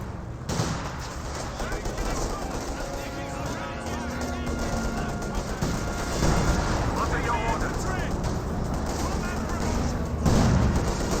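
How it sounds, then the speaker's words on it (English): Artillery barrage explosions in the war game Company of Heroes 2 boom and crackle continuously, with heavy dense blasts throughout while someone talks over them. "Panzer Warfare Barrage running on in."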